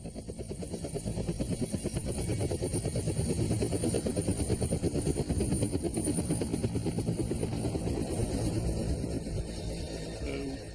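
A helicopter flies in Antarctica, its rotor chopping in a fast, steady, loud rhythm that swells slightly and then holds, alone without voices.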